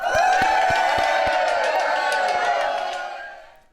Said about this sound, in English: Everybody, round of applause for Karen